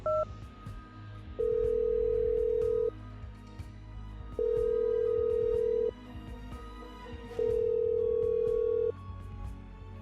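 A phone ringback tone repeats three times at steady intervals, each tone lasting about a second and a half, with faint background hum and no answer.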